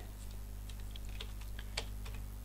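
Quiet, rapid key presses on a computer keyboard as a word is typed, set against a steady low electrical hum.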